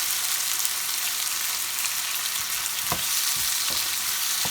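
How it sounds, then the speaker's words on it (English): Fresh tomatoes fry in a hot pan for a beef meatball curry, giving a bright, constant sizzle with a few soft knocks of stirring beneath it. "So we're going to let that cook and sizzle for a bit."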